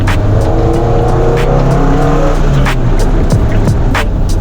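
A Nissan 200SX SE-R with a cheap aftermarket intake revs loudly and continuously, its engine note rising and falling in sweeping pitch changes, close and dominant with no talking.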